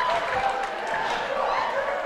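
Crowd at a college basketball game between the TVCC Cardinals and Tyler, cheering and applauding in a sustained roar after a made shot, with a commentator's voice running over it.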